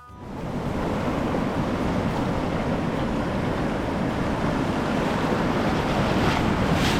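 Ocean waves at high tide roll in at Muzhappilangad Beach in Kerala during the monsoon, a continuous loud roaring wash mixed with wind across the microphone.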